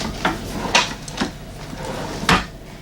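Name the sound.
drawer being opened or closed in a Holiday Rambler motorhome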